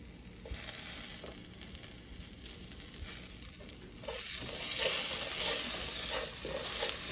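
Curry leaves and spices sizzle and crackle in hot oil for a dosa potato filling, a steady close frying hiss with pops and splatters that grows louder toward the end, with no talking.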